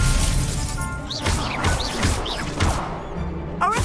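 Expelliarmus spell effect in Hogwarts Legacy, loud crashing and whooshing magical impacts over dense game combat noise, with several rising chirps and a sharp burst near the end.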